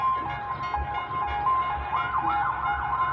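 An emergency siren wails from a distance, its pitch rising and falling in cycles over low, rumbling street noise.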